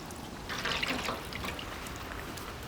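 Dark soy sauce poured into a sweet and sour sauce mixture with vinegar and jaggery, heard as a brief soft liquid trickle and splash, close and fairly quiet, with no talk.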